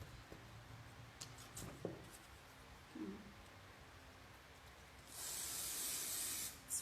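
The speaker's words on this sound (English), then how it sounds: "normally I would never spray paint anything or glue spray anything on my table" Can of spray adhesive sprayed onto cardboard during tabletop prototyping: a steady hiss lasting about a second and a half near the end, after quiet handling clicks and rustles, close and fairly loud.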